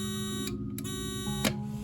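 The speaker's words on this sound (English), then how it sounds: "So the alarm has the Dover buzz." A Dover elevator alarm buzzer drones as a steady, harsh electric buzz at close range, broken by a few brief clicks and flutters.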